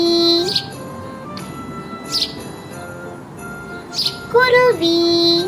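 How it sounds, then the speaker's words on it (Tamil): A sparrow chirps in a few short, bright bursts spaced across the clip, set against a soft background with faint tonal music; no one speaks. "குருவி"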